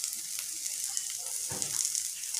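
Unpeeled garlic cloves fry in a pan with a steady, close hiss of sizzling oil and a brief stirring scrape partway through.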